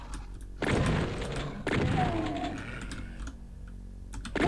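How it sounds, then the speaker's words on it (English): Rapid clacking from a mechanical keyboard with MX Brown switches, typed on steadily while playing classic DOOM, the keystrokes blending with a dense wash of game sound and a few sharper hits. "if you can hear my keyboard clacking away, that is because I have a mechanical keyboard"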